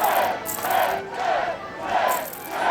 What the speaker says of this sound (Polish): Tłum zawył, przekrzykując się i dopingując swoich faworytów.